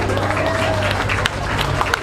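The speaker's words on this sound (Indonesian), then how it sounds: "Kita minta tepuk tangan majelis ini" An audience at a Balinese gathering claps in a loose wave, noisy and fairly close, with crowd murmur mixed in.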